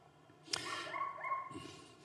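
A dog barks once sharply, followed by a couple of short whining yips, faint and distant in an otherwise quiet room.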